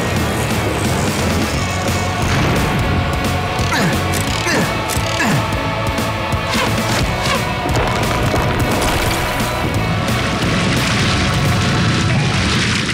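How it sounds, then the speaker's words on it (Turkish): A cartoon volcano mountain erupts in a loud, continuous barrage of booming crashes and rumbling blasts that fills the whole stretch without letting up. "Bu dağ patlamak üzere."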